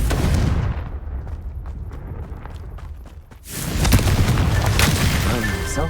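A Confringo fire spell in Hogwarts Legacy bursts into a loud, booming blast, followed by a rumbling crackle and more bright impact noise as the explosion rolls on.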